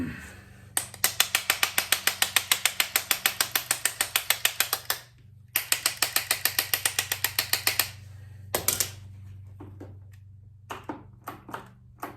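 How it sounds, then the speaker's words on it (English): An Arctic Cat EXT 580 snowmobile engine gives off rapid, evenly spaced mechanical clicks in two long runs, then a few scattered clicks, over a low steady hum. "Sounds like it's clicking a little bit more, and I thought I heard it squeal once."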